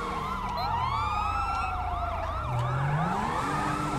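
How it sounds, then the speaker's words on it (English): Wailing police car siren from GTA 5 LSPDFR city patrol play, a steady rising-and-falling electronic tone sounding continuously and fairly loud throughout, with a low vehicle rumble underneath and no talk. "I don't know who still has their siren on"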